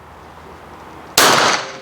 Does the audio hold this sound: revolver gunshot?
yes